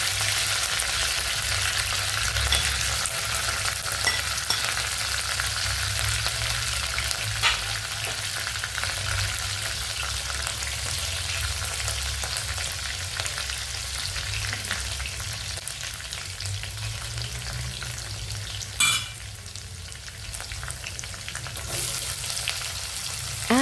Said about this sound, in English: In that same oil, drop your mustard seeds, green chilies, and a handful of fresh curry leaves.